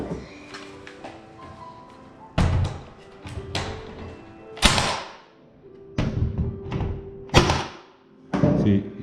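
Hammer blows nailing a door jamb into place during a door installation, a series of loud, sharp thuds spaced irregularly about a second or two apart, close by, with faint background noise between strikes.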